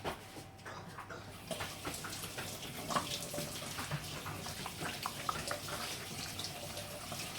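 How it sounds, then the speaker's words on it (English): Running tap water splashes steadily over hands being rinsed at a kitchen sink while baking raspberry scones, a continuous broadband hiss with small irregular splashes, close and moderately loud, no talking. "excuse me while I just go and quickly rinse my hands"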